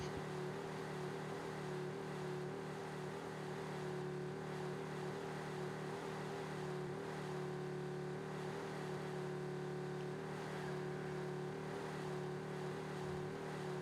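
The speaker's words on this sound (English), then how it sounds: "This engine does not sound well at all." Car engine in the driving game Drive Beyond Horizons, a C18 build that runs rough, holding a steady, loud droning rev with a persistent low hum and buzzy overtones throughout, no voices over it.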